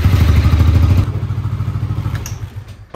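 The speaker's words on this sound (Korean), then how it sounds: "오일을 떴으면 시동을 걸어봐야겠죠." A Yamaha XMAX300 scooter engine starts right after an oil change, with a loud, steady chugging idle close by. It begins with a heavier rumble, then settles into a lighter, even running note.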